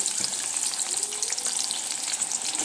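Young jackfruit pieces fry in hot oil, a loud, dense, bright crackling sizzle that stays steady throughout, close up and with no speech.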